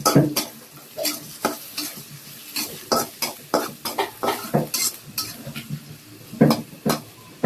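Dal tempered in hot oil sizzles while a spoon scrapes and stirs against a metal pot in a home kitchen, giving a steady run of clinks and hisses.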